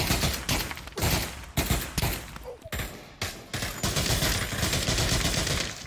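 Sustained automatic gunfire in the video game Pavlov, dense rapid bursts close and loud, broken by brief pauses before resuming into continuous firing.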